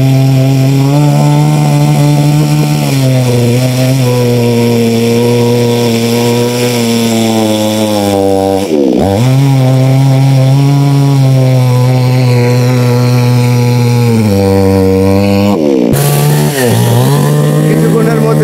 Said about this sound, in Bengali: এখন গাছটা গোড়াটাকে মেশিন দিয়ে কাটতেছে।